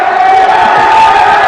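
A packed gym of fans cheers continuously at a Minneapolis, Kansas high school boys basketball game against Russell, a dense, unbroken wall of crowd noise as the winning team walks out.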